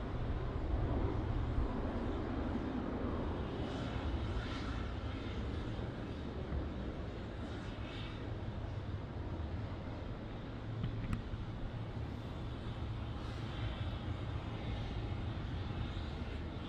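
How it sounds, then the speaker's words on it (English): A Qantas Boeing 717-200 departs off runway 34 at Melbourne Airport, its jet engines producing a steady, broad roar that stays loud and sustained for the whole stretch, with no talking over it. "departing off runway 34, at the moment we have a Qantas 717-200"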